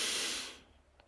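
A slow, deep breath drawn in during a paced breathing exercise, close and airy, fading out within about a second with nothing else heard.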